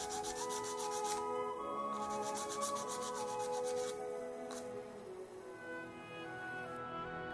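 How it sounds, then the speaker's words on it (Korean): An aluminum Apple Watch case is worked with a soft sanding sponge, giving close, rhythmic rasping strokes in quick bursts with short pauses between them. No voices are heard. "옆면은 부드러운 스펀지 재질이라서 용두에 걸치니까 사포질이 편하더라고요."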